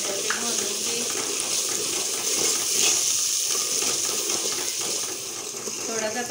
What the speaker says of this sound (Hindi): थोड़ा सा पानी डालती हूँ